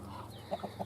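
Chicks clucking softly in a coop, a few short, close peeps and clucks over a low hum, faint and brief.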